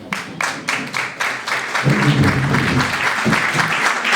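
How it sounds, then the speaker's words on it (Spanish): Applause from an audience, steady broadband clapping that starts moderate and swells louder in the second half, with a faint low murmur underneath. "Los aplausos son para nosotros."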